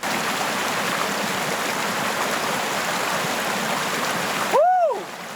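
A mountain river on a forest hiking trail in Hokkaido rushes steadily and loudly close by, a continuous broadband wash with no talk, ending in a brief rustle and swish near the end.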